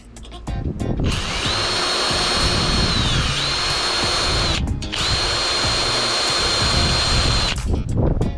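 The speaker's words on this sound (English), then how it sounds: "We're going to slowly drill this out." A power drill runs loud and close for several seconds, slowly drilling something out during an awning install, pauses briefly, then whines on again, its high motor tone steady while the bit grinds.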